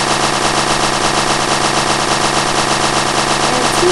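Shotgun fire in the Melon Playground video game comes as a rapid, unbroken stream of loud overlapping blasts, dense and constant throughout with no pauses or talk.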